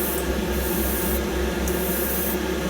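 An airbrush sprays red oxide primer thinned with airbrush thinner onto a model tank, giving a steady close hiss of air with short regular pulses as the trigger is worked.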